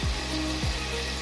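Ivy gourd (tondekai) hitting a hot pan of cooked tomato and green chillies, giving a short, steady sizzle at moderate level with no voices.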